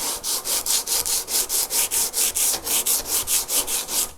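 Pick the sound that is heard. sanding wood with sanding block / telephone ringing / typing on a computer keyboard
sanding wood with sanding block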